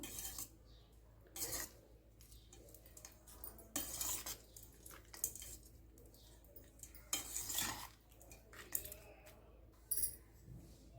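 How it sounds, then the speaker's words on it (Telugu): A spoon clinks and scrapes against a metal pot in short bursts while tempering is stirred into citron lemon rice, with quiet pauses between each stir. "ఈ తాలింపు కూడా ఇందులో వేసి బాగా మిక్స్ చేసేసుకుందాం"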